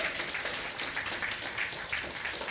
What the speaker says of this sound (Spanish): ¿Cuántos podemos darle un aplauso bien fuerte a ese buen pastor?